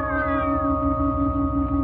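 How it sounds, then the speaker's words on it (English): Several cats meow and caterwaul together in long, wavering tonal cries over a steady low background hum, loud and continuous throughout. "What's that racket? Just cats."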